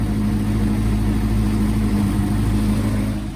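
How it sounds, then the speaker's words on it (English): A car engine idles steadily at around 1600 RPM with a low, even hum and a constant tonal drone, close and continuous with no revving. "It's idling around 1600 RPM, which is all right, I guess."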